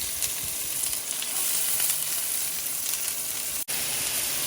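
Onions and sweet red bell peppers fry in a pot as the base for chicken corn chowder. A close, steady, even hiss of sizzling runs without pause, broken only by one brief dropout near the end.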